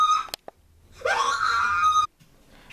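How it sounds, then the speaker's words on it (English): A voice actor in a comic dub performs a character waking up screaming: a short gasp, then a loud, shrill, sustained scream lasting about a second that cuts off abruptly into quiet. "Frisk wakes up screaming."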